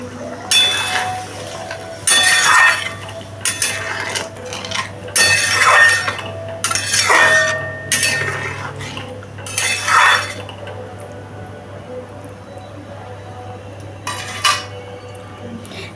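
Metal spatula scraping and clinking against a pan while stirring egg chilli masala, in bursts of rapid clattering strokes separated by quieter pauses, close and fairly loud with a low steady hum underneath.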